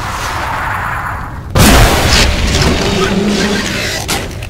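A minigun turret deployable drops into a Section 8 video game battlefield, landing with a sudden loud crashing impact after a rushing whoosh, followed by rumbling noise.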